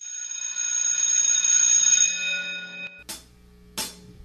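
A bell rings with a sustained, shimmering metallic tone that slowly decays over about three seconds, followed by two short, sharp strikes spaced apart, with no talk.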